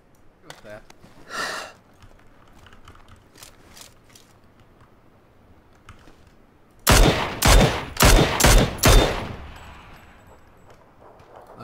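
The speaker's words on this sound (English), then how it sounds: "I shot a helmet off at 120." Rapid bursts of automatic gunfire from a shooter video game, several loud clustered volleys close together after quieter earlier shots, with players talking over the game sounds.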